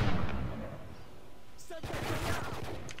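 Video game gunfire crackles in short bursts, starting with a loud volley then a denser rattle of rapid shots, close and prominent, with no talking over it.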